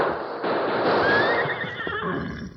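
A horse neighs in a 1948 Western radio drama, a loud, close, quavering whinny rising and falling over about two seconds against a hissy background.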